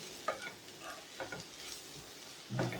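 Chilli, coriander and turmeric powders sautéed in a pan for a brinjal tamarind curry, with soft, regular spatula scrapes over a quiet sizzle and a heavier scrape at the end.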